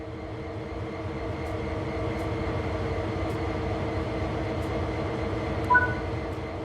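Locomotive in the Train Sim World 3 game running with a steady low rumble and drone, faint high squeals, and a brief brighter screech near the end, all at an even moderate level with no speech.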